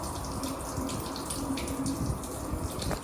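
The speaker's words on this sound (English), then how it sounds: "Sounds like the drain's still running." Water running steadily through a muddy field drain, a continuous close trickle and gurgle with no voices.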